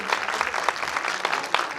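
A short burst of audience applause at a kindergarten year-end show, many hands clapping briskly together at close range.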